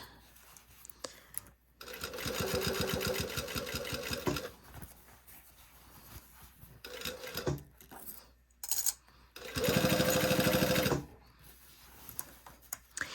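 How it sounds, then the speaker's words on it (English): A domestic sewing machine stitches a 3/8 inch hem on a lined garment in two loud, fast-rattling runs of a couple of seconds each, separated by quieter handling noises and small clicks. "So now we are sewing the hem at 3/8 of an inch."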